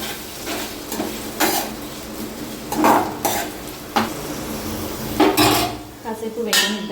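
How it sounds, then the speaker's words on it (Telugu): Green chilies, cumin, mustard seeds and onions fry in hot oil for an egg pulusu, with steady sizzling broken by repeated scrapes and clinks of a spoon stirring the metal pan. "ఆయిల్ వేయడవగానే మనం కట్ చేసి పెట్టుకున్న పచ్చిమిర్చి వేసుకుందాం."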